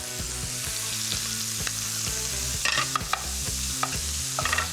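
Bacon and chopped shallot sizzle loudly in a frying pan, a constant close crackle with a few sharper pops and stirring scrapes layered over the steady hiss.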